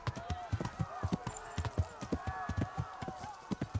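Horse hooves clip-clopping at a run in Kingdom Come: Deliverance, a steady rapid beat of hoofbeats close by, with someone talking over them.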